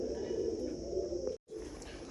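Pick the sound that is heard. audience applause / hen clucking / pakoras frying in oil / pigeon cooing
pigeon cooing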